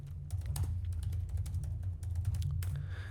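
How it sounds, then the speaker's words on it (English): Someone types on a computer keyboard, close by, producing a quick, uneven run of clicky keystrokes over a low steady hum, with no speech. "I apologize to everybody if you hear me tapping the keys."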